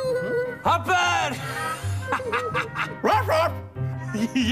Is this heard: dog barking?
yes